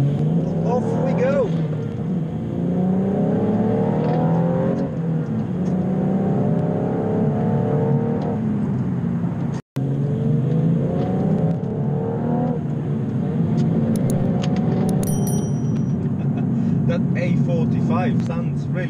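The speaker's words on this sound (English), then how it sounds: "Sounds really nice for a four-pot car." A four-cylinder car engine hums steadily from inside the vehicle on mountain roads in Wales, rising in pitch through repeated gear pulls, with a brief dropout midway and a constant road rumble.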